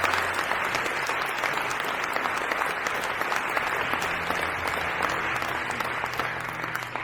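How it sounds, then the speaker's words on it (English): An audience at an election debate applauds the candidates, a full, steady wash of clapping from many hands that continues evenly throughout. "If you could just give them an applause before we start"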